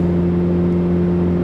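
A Volkswagen Passat B5 engine in the City Car Driving game accelerates, giving a steady, loud droning hum with strong low tones that hold without a break.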